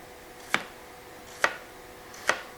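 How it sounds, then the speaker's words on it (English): A knife cuts a vegetable into thin slices on a board, giving three crisp, evenly spaced chops that are close and distinct against a quiet background. "I'm going to cut it in half. And make slices."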